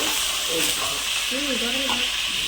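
Onion, cumin seeds and curry leaves fry in hot oil for a tomato and broad bean curry. A bright, continuous hiss and sizzle holds steady, close to the listener, while a voice talks briefly over it.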